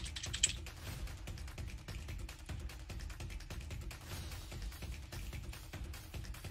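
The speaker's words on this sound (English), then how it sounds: "let me get to typing so it's faster" Rapid, steady keyboard typing clatters on for several seconds, soft individual key clicks in a quick continuous rhythm with no talking.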